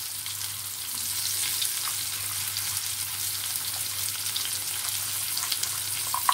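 Chopped onion, ginger and garlic fry in a pan over lowered heat, a steady bright sizzle with soft crackles and a faint low hum underneath, continuous and close.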